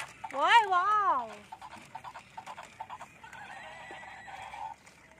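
A zebra gives a loud, wavering whinny at the start, followed by quieter scuffing and rustling as it drags a hula hoop, with faint background sounds and no clear talk over it.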